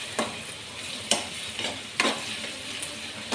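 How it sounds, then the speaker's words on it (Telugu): Onions fry in a pan for an egg and tamarind curry, stirred with several distinct scraping strokes over a steady close sizzle. "ఒకసారి ఆనియన్స్ మొత్తాన్ని మిక్స్ చేసుకోవాలి"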